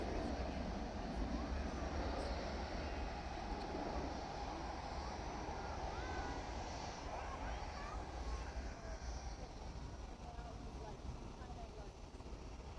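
A 31-year-old Boeing 757 built in 1994 at DFW Airport at night gives off a steady, broad engine roar that fills the whole stretch, easing slightly toward the end.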